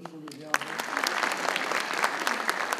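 Audience applause at an academic symposium on Troy and Çanakkale, with a few soft voices before a burst of steady clapping starts and keeps going briskly.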